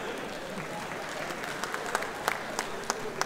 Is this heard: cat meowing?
no